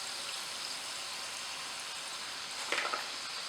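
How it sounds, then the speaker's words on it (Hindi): Pieces of yam (ratalu) fry in hot oil for Surti undhiyu, a steady soft sizzle with a few brief louder crackles near the end, quiet and close. "तो ये यम यानी कि रताड़ू भी अच्छी तरह से फ्राई हो चुका है।"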